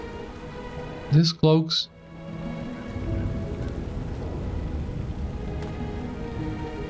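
Steady rain pours down in the Lord of the Rings Online city of Minas Tirith, a dense even hiss that fills the scene for several seconds after a short burst of speech at the start.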